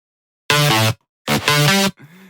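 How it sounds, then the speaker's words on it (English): Dubstep synth bass built from a plain saw wave, sounding as two loud, buzzy sustained notes with a bright harmonic edge and a quieter third tail, heard alone. "it's pretty much just a saw wave"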